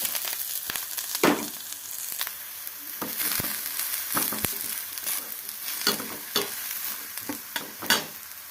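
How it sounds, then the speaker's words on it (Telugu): Onions, green chillies, curry leaves and coriander frying in oil for samosa filling, a dense crackling sizzle broken by repeated scraping and knocking strokes of a spatula stirring in the pan, close and loud. "ఆనియన్స్, పచ్చిమిరపకాయ ముక్కలు, కరివేపాకు, కొత్తిమీర ఇవన్నీ వేసి బాగా ఫ్రై చేసుకుందాం"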